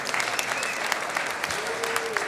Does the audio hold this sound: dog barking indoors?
no